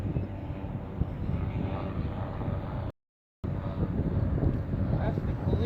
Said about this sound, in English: That's the police helicopter.